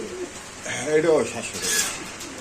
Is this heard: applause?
no